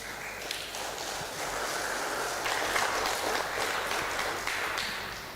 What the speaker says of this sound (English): Let's give a round of applause again to the speakers for their excellent presentations.